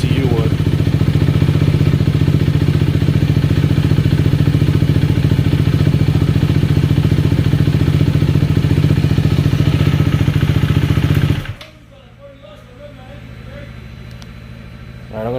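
A KTM Duke 390 motorcycle engine idles steadily and loudly up close for about eleven seconds, then cuts off abruptly, leaving faint background noise.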